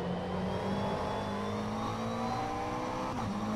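The McLaren 720S GT3 race car in the rFactor 2 racing sim sustains a loud, steady engine drone with pitch sliding up and down under throttle, no voices.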